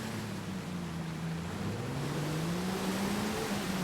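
A Land Rover Defender pushes through water, its steady engine drone rising slowly in pitch beneath a continuous wash of splashing and churning water, close and fairly loud throughout.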